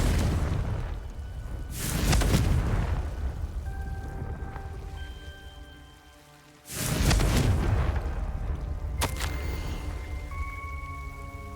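Confringo fire spell from Hogwarts Legacy, two heavy explosive bursts several seconds apart over a rumbling, rain-like ambient bed, loud and close, with faint tonal chimes between the blasts.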